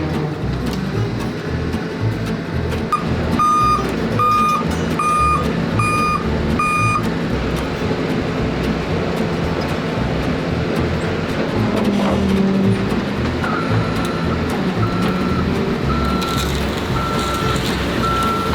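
Flatbed truck backing up while loading a fire-damaged Porsche 918 Spyder: a run of loud, evenly spaced reversing beeps over a rumbling engine, then a second, softer series of beeps later on.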